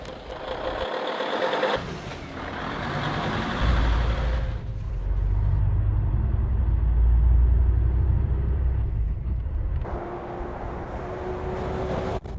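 Mercedes-Benz truck engine pulling away, a deep low rumble that builds and swells as the truck moves off, with a brief tonal whine, heard alone without talk.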